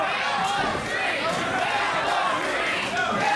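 A pro wrestling crowd roars through a near-fall pin attempt in a Heroes vs. Villains match, a dense, steady wall of cheering and shouting that stays loud for the whole stretch.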